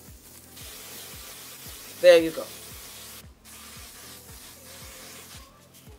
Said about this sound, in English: I go with the spray and I spray it black.